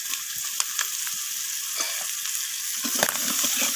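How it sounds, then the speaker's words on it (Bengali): Chopped kohlrabi and onions fry in rohu fish oil, a loud, continuous sizzle close by with occasional stirring scrapes and no talk. "ওলকপিটা দেওয়ার পর আমি পেঁয়াজের সাথে এইভাবে ভাজা করে নিলাম"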